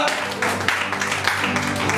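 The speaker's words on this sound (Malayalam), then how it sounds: "എല്ലാവരും ഒന്ന് നല്ലപോലെ കൈയടിക്കുക" An audience at a stage event claps for a guest who is receiving a memento, with steady, moderately loud applause running throughout, though individual claps blur together.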